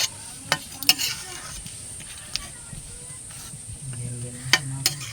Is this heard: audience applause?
no